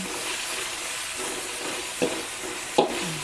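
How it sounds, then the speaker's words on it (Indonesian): Spices with a little ginger sautéing in a home kitchen pan, a continuous soft sizzling hiss with a few brief clinks of a utensil against the pan near the end, no talking. "Ini tumis dulu sampai harum"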